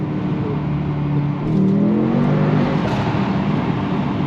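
A Mercedes-AMG GT63 S E Performance engine revs and accelerates with a rising whine that climbs and holds, loud and close, with no talking.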